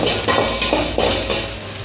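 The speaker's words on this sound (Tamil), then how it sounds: "பொடி பொடியாக நறுக்கி வச்ச இந்த வெங்காயம் போட்டு நான் வதக்கிக்கிறேன்" Steady sizzling and frying of chopped onions sautéing in a pan, with a few soft stirring scrapes, close and continuous.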